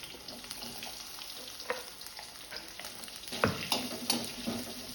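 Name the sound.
onion and chili frying in oil with cumin in kadai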